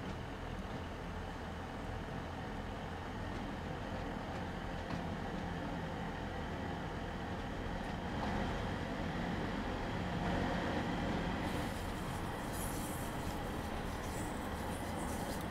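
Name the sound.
train engine running, from the video game Train Sim World 2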